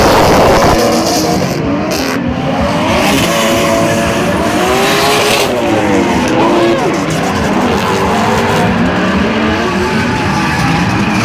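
A train of drift cars slides through a corner at Parklands on the Gold Coast, with loud, continuous tire squeal layered over revving engines. The roar holds steady and close for the whole stretch.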